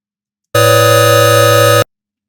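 A synthetic sawtooth wave tone generated by an After Effects audio tone effect sounds as a steady, bright, buzzy note, held alone at constant loudness for just over a second with an abrupt start and stop.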